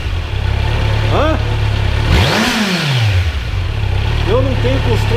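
A 2021 Kawasaki Z 900 motorcycle engine idles steadily nearby, then revs up sharply with a rising and falling roar before settling back to idle under brief speech.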